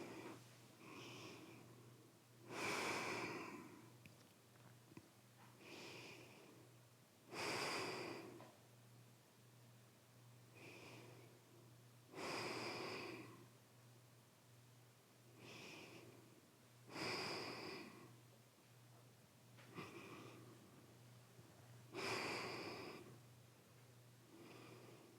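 Slow, deep yoga breathing: about ten drawn-out breath cycles recur roughly every five seconds, soft and close, over a faint steady hum, with no talking.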